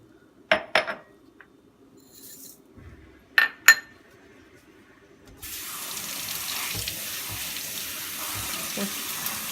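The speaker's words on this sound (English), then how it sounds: "the first step is to wash the grains, the lentil and the rice together" Lentils and rice being rinsed together in a pot under a running kitchen tap, with a few sharp clinks of the pot before a steady, close rush of water fills the sink for several seconds.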